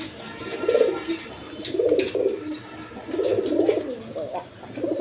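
Pigeons coo in repeated soft, throaty bursts close by, several rounds over a few seconds against light background noise.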